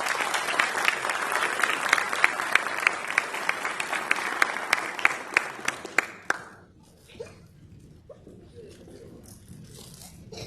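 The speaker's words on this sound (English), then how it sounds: "One more round of applause, please." A round of applause at a Navy retirement ceremony, steady clapping with some sharp, distinct claps for about six seconds, then fading into quiet with a few stray sounds.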